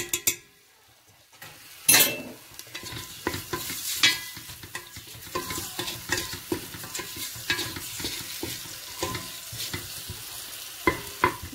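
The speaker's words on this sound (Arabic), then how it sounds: "نخليها شي شويه يتقلى" Cinnamon and spices fry in a pot for harira, a close sizzle broken by repeated stirring scrapes and light clinks of utensil on metal, with no voices.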